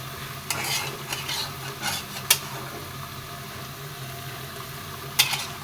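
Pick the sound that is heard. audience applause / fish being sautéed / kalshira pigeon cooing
fish being sautéed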